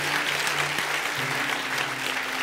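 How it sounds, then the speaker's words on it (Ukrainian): A church congregation applauding after a prayer of repentance, a dense, steady wash of clapping from many hands with a low hum underneath. "Аплодисменты для вас, дорогие."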